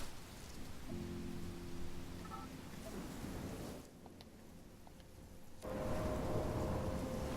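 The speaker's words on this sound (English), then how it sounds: "I'm trapped in a storm?" Steady rain pours over a low thunderstorm rumble in the video game Life is Strange, with faint sustained tones briefly rising within the dense noise.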